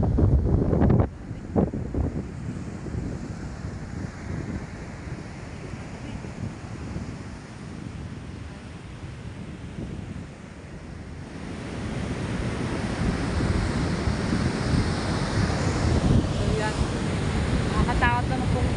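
Large sea waves surge and wash in near a house during flooding, a continuous loud roar of surf and rushing water with wind buffeting the microphone, the water swelling louder toward the end.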